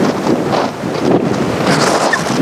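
Big sea waves rolling in toward the shore, a broad continuous rush of surf mixed with gusty wind buffeting the microphone, loud and steady throughout with no speech.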